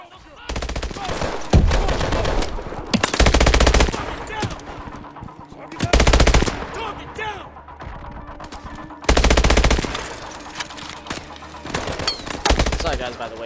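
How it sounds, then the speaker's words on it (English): Gunfire in the video game Call of Duty Advanced Warfare, with several loud, dense bursts of automatic fire separated by quieter stretches of battlefield sound, close and punchy, without any voice heard. "Whoa, getting shot."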